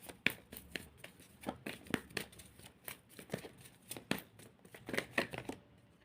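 A deck of tarot cards shuffled close by, quiet rapid riffling and snapping bursts repeating irregularly over several seconds with no voice.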